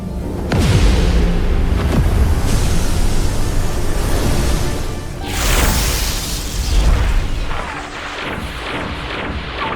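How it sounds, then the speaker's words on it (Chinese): Booming palm-strike blasts in a martial arts animation: heavy, rumbling impacts and roaring bursts layered over a dense, continuous wash of noise. Loud and sustained, with several swelling surges. "不知道轰出了多少恐怖的掌力"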